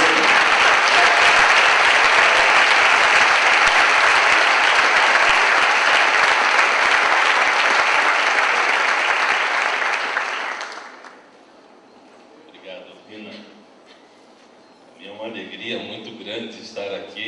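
A church congregation bursts into loud, sustained applause that fills the room for about ten seconds, then fades out, followed by quieter stretches of a voice speaking.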